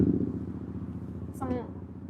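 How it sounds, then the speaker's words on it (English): A motorcycle's low engine rumble drones steadily in the distance, suggesting bikes cruising back and forth, while a voice briefly cuts in over it. "Unless there's like a motorcycle gang cruising back and forth"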